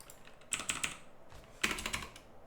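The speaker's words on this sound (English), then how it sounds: "Am I typing in the other file still?" Close, fairly quiet typing on a computer keyboard, in two quick bursts of keystrokes with a short pause between them and no speech.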